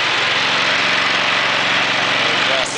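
A new Briggs & Stratton L-head small engine started cold in cold weather, running with a steady loud buzzing drone close by, ending with a brief click.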